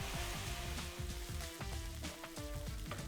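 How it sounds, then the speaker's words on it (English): Minced beef with brown sugar fries hard over high heat, a dense, loud crackling sizzle that never lets up, with the scrape of a stirring spoon coming through now and then. "Stir it all together and fry for about 4 to 5 minutes, still over that high heat, stirring often until the beef starts to darken and caramelise."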